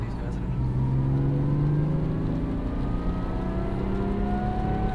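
A supercharged first-generation Lexus IS200 with a Torsen limited-slip differential drifts nearby, its engine note rising in a steady revving whine over a constant wash of tyre and road noise, while people talk in the background.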